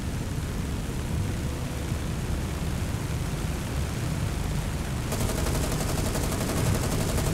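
Naval gunfire roars from Japanese warships in War on the Sea during a Tokyo Express night action, a dense, continuous wall of firing and booming noise that thickens toward the end.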